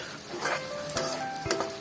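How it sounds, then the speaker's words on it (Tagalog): Corned beef sizzles as it fries in a pan for Filipino-style cooking, with a utensil scraping and clinking against the pan at a steady stirring pace, close and moderately loud. "Yan po, halu-haluin lang natin."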